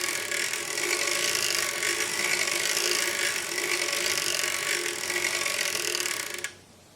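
A sock knitting machine is cranked while knitting 4-ply sock-weight yarn, giving a steady, close mechanical ratcheting clatter that runs for about six seconds and then stops abruptly.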